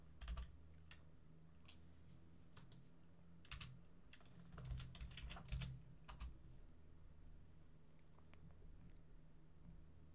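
Someone types on an English-layout computer keyboard while installing software. The keystrokes are faint and come in short irregular bursts of clicks over a quiet room hum.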